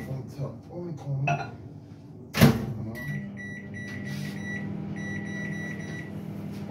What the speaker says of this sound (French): maintenant, je vais faire fondre tout ça au micro-ondes